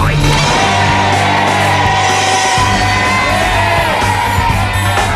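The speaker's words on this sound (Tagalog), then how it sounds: "Hindi raw ang sigaw ng ating studio audience" A large studio audience yells and whoops loudly all at once, a dense, continuous roar of many voices in a big room.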